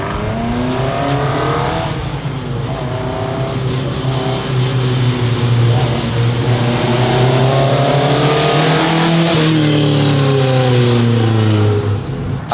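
A loud British car roars past up close, its engine note rising and falling as it sweeps by, steady and continuous with no talking.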